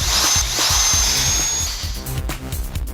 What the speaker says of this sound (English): You gotta drill some holes.